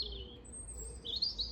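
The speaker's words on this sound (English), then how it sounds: "Do you hear the robin over there?" Robins sing in a garden, giving thin high chirping phrases that rise and repeat, with the brightest notes near the end over a soft outdoor hush.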